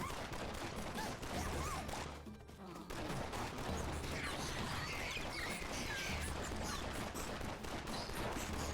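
Assault rifle fire in Atomicrops, a dense, rapid stream of quiet gunshots and crackling impacts mixed with busy game effects, briefly dropping off for a moment before resuming just as thickly.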